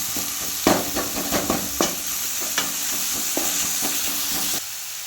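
Vegetables fry in a pan with a continuous crackling sizzle and a series of sharp clattering stirs, and the sound cuts off just before the end.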